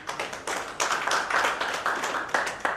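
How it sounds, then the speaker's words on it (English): A small audience at a turf care seminar claps for a golf course designer, with distinct, uneven hand claps and a few sharp individual strikes standing out from the scattered group. "A round of applause"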